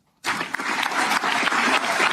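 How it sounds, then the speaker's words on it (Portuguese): Sudden applause breaks out at a Supreme Federal Court ceremony and carries on loudly and steadily as a dense wash of clapping. "Tendo agora aplaudido Alexandre de Moraes e o presidente e o vice se abraçando"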